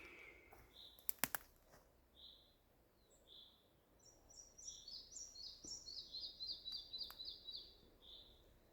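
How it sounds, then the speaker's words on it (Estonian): Soft birdsong outdoors, repeated high chirps and a longer trilling phrase, fairly distant and quiet, with a couple of sharp clicks near the start. "ma kuulen linnulaulu"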